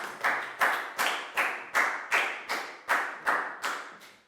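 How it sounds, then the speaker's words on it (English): A class of Year 4 pupils claps together in about ten sharp, evenly spaced bursts, each a quick crisp clap fading before the next, with no voices. "Big round of applause for Bang Pong"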